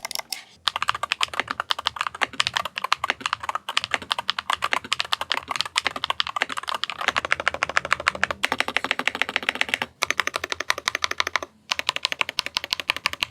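Steady, fast typing on a Luminkey Magger68 HE keyboard with lighter Gateron Jade Pro-like switches, foam-and-polycarbonate stems and nylon PA66 bottom housings; dense close clacks with a few short pauses, no voices.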